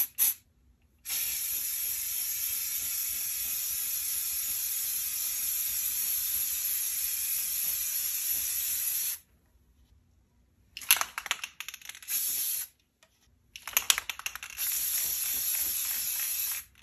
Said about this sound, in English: I'm just going to spray paint this all one color.